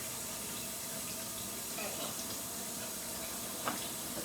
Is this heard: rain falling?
no